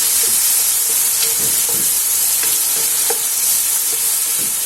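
Loud steady sizzle of vegetables and ribs frying in a pan as chopped tomato goes in, hissing continuously with occasional soft stirring clicks and scrapes.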